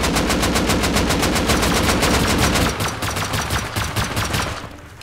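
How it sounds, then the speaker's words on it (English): Rapid automatic gunfire in the survival game Rust, a loud, fast, even string of shots that runs for over half the clip, then drops to scattered echoing bursts and fades. "I'm shooting, ready?"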